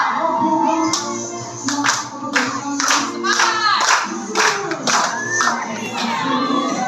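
Children clap their hands in rhythm during an Indonesian finger-clapping chant at a school practical exam, with quick bright claps under loud, excited group chanting and shouting.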